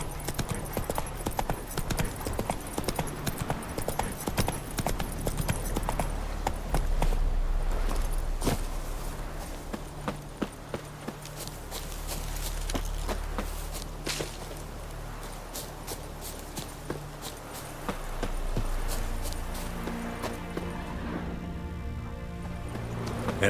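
Roach the horse in The Witcher 3 clip-clops along steadily, hooves close and clear under game music, with a brief pause near the end.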